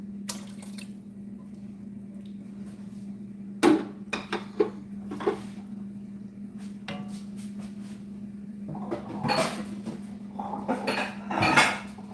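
Dishes clatter as a serving platter is taken out and set down in a home kitchen during ragu preparation, with several sharp clinks and knocks, some cutlery rattling, over a steady hum.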